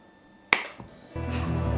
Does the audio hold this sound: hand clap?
yes